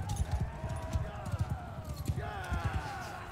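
A horse's hooves clip-clop at a trot in the Bannerlord video game, a quick uneven patter of close hoofbeats over a bed of steady game ambience with tonal hum.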